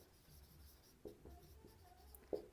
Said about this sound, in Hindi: मैं यहाँ पे लिख देता हूं मोशन ऑफ सिस्टम